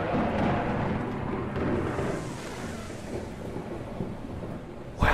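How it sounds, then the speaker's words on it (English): Thunder in the video game Gone Home, a low, sustained rolling rumble with rain-like hiss, fairly quiet and continuous, easing slightly before a sharper burst at the very end. "wow, I hate thunder."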